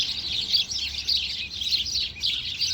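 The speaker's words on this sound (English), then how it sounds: "I hope these birds aren't driving you crazy. They're very loud and aggressive, eh?" Loud, aggressive birds chirp continuously nearby, a dense rapid twittering chorus that rises and falls in bursts, with no talk.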